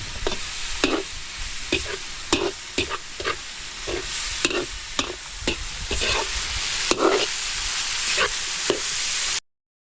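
Bopis stirred in a pan with a spoon scraping in repeated, uneven strokes over a steady background sizzle, close and fairly loud, with no talking.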